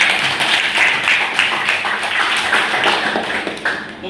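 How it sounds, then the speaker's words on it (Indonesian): A classroom group gives continuous applause after a student group's presentation in an Indonesian teaching session, a dense, even patter of many hands close by that holds for several seconds. "Tepuk tangan untuk kelompok sum'ah"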